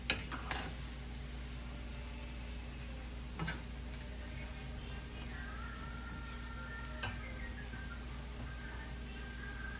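Egg fried rice is stir-fried in a pan, a faint steady sizzle with a few soft scraping and clinking strokes of the spatula against the pan, quiet and close.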